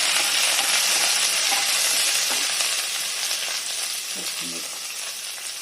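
Onion pieces and green chilies with garlic and dried red chilies fry in hot oil in a pan, a steady close sizzle and hiss that eases slightly toward the end, with a few stirring clinks.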